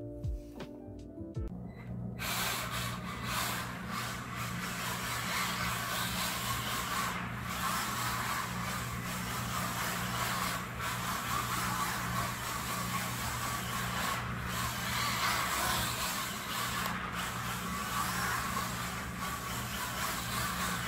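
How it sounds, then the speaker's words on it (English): A little Mini-Z RC car, set up for drifting, whirs continuously with a steady high-pitched motor whine and faint tire scrubbing, starting after a brief quieter moment and running on for the rest. "a little clip of this little Mini-Z driving"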